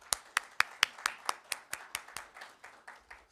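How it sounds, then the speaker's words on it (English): Clapping at a Surry County water infrastructure grant ceremony honoring a congressman: a quiet, regular run of about fourteen distinct hand claps at an even pace, gradually softening. "I think that we need to give him an applause."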